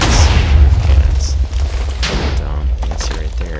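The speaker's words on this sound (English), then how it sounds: "It almost fused with the TNT, and it would have made a hole if possible." A TNT roof cannon fires in a video game, giving deep, heavy booms and thuds that repeat through the stretch, loud and close, with a few sharper cracks near the end.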